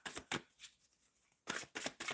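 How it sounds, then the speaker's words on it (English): Tarot cards are shuffled in quick riffling bursts, a pause, then a second run of brisk, close shuffles with no talking. "Shuffling for Jazz"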